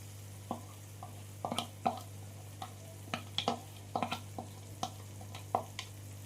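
Spinach paste stirred into spices in a pan for palak paneer, with irregular scraping stir strokes and light sizzling over a steady low hum, fairly quiet and with no talk.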